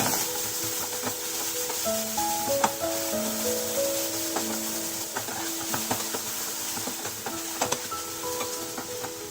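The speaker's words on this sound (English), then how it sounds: "After 2 minutes, add the capsicum. Saute it for a minute." Chopped capsicum sautés in a pan on a tava for a yeast-free pizza topping, with a soft sizzle, stirring scrapes and scattered clicks under background music.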